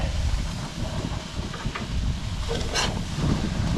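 Wind gusts at around 20 mph buffet the microphone beside an outdoor grill on a cold day, a constant rough rumbling roar with brief swells and no voices.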